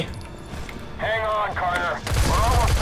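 Heavy gunfire in the mobile shooter Modern Combat 3: Fallen Nation on Android, a loud, dense volley breaking out near the end while a voice talks over the battle.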